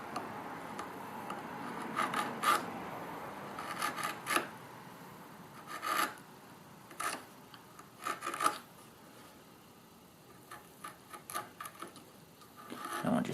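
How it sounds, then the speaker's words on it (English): A tiny paring chisel slices into wooden end grain, giving soft, scattered rasping scrapes in short bursts with pauses, close and fairly quiet. "here's a little paring chisel"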